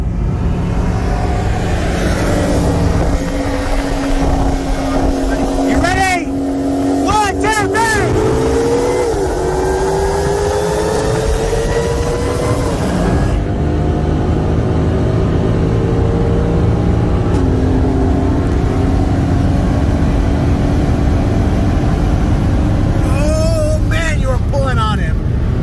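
A 2018 Mercedes C63 S AMG with bolt-ons and E30 fuel races a 2021 Shelby GT500 with an intake, engines roaring loud and close as they accelerate hard through the gears, with rising tones and a gear shift midway; people talk over it.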